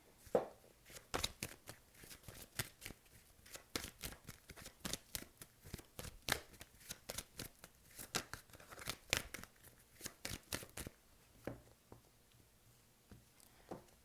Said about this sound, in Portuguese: Só embaralhar aqui mais um pouco.